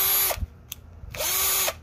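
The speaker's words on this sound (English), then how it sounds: "The Bosch lithium ion 18 volt drill." A Bosch 18-volt lithium-ion cordless drill whirs in two loud bursts, one about a second long and a briefer one after a short pause, with a faint click between them, near and with no talk.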